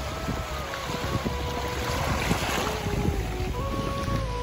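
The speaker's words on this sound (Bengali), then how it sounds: "আর এখন আমরা একদম সমুদ্রের ধারে চলে এসেছি। দেখো সমুদ্র" Sea waves wash continuously along the shore of Mousuni Island, a steady broadband roar mixed with wind buffeting the microphone and a faint distant engine hum, with no talk.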